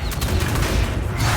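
Enemy gunfire in a video game, a dense, loud burst of rapid shots and booms with no pauses over the short stretch.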